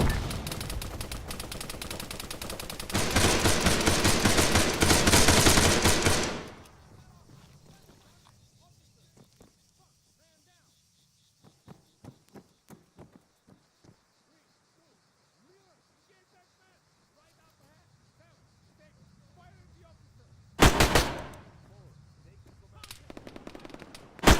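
Machine gun fire in the ArmA 3 combat game: a long, loud, sustained automatic burst, a quiet stretch with scattered distant pops and radio-style callouts, then another short heavy burst.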